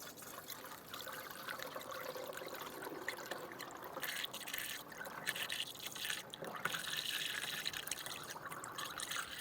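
Honda coolant poured into the radiator reservoir of a Honda Accord, a faint steady trickle of liquid running on throughout.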